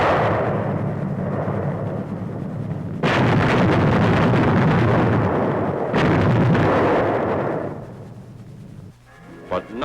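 Bombs dropped by B-24 and B-17 heavy bombers explode in a dense, roaring barrage, with two sharp new blasts about three seconds apart, each rolling into a long rumble before fading near the end.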